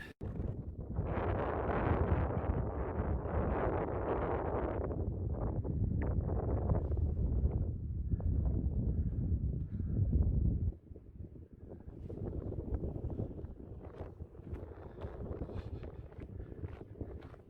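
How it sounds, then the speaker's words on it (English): Strong wind on a high point in the canton of Zurich, Switzerland, buffets the microphone in a continuous loud roar, easing somewhat partway through into gustier, lighter rumbling. "It's very windy though today."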